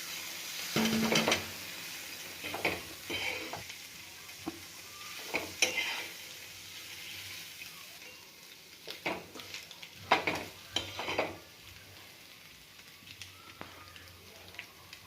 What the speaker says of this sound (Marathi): आता बॉईल केलेले अंडे आपण त्याच्यात टाकूयात